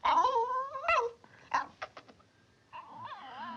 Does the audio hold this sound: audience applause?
no